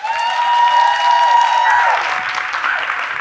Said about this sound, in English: please clap just a little bit louder for this beautiful human that is Adrienne Say.